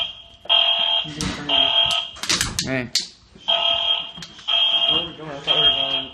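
A building fire alarm sounds during an early-morning evacuation of a residence hall, its loud high electronic tone pulsing in repeated bursts while people talk nearby between the blasts.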